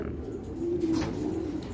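Racing pigeons cooing in a loft, with a soft, low, rolling coo rising over a dense, steady background of birds close by.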